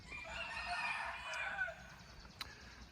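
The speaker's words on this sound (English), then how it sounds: "Those roosters go all day long." A rooster crows once at a hostel on the Appalachian Trail, somewhat distant and faint, followed by a brief click; no one speaks.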